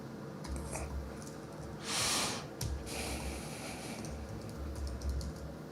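Rapid clicking of a computer keyboard in a bursty typing rhythm, close by with brief pauses and a louder breathy snort in the middle; no speech.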